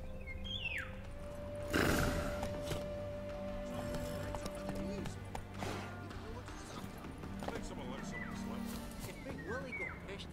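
In the video game The Witcher 3, a horse whinnies loudly with a sharp high cry, hooves clip-clopping and other game sounds around it, while voices talk throughout.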